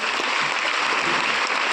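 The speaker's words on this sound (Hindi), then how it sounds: "एक बहुत बड़ी ताली होनी चाहिए अपने लिए" An audience at a training session applauds in a steady, dense wash of clapping throughout, with no talking over it.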